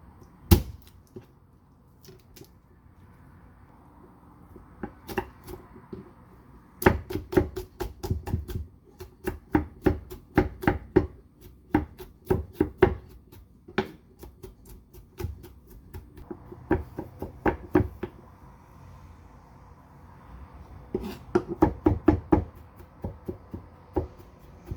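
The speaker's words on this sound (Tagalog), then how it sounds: "pitpitan natin siya ng bawang" Garlic being pounded for Filipino bistek, heard as bursts of sharp, close knocks in quick irregular runs separated by short pauses, fairly quiet overall with no talk.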